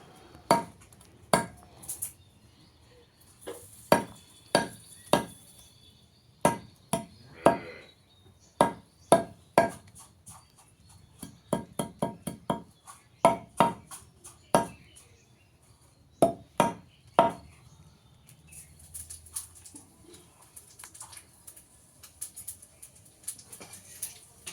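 A knife chops through stalks, each cut a sharp, crisp thwack landing in irregular clusters and quick runs with short pauses, close and clear against a quiet background with faint outdoor ambience.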